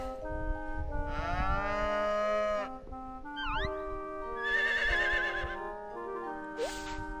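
Harvest Moon: One World video game cows moo in long, tonal, synthesized calls, two sustained bursts over a busy looping farm soundtrack, with a horse-like whinny near the end.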